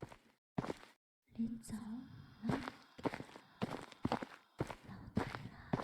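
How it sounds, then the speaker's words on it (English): Loud footsteps in the horror game Paranormal HK, a series of distinct thudding steps in an uneven walking rhythm, close and prominent, with quiet whispery breathing and faint ambience between them. "My footsteps are so loud in this game"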